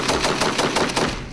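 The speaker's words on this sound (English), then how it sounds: "Based around the world's only fully automatic shotgun," A fully automatic shotgun mounted on a remote-controlled ground robot fires a rapid burst of about eight heavy booming shots in quick succession, loud and close, with no speech.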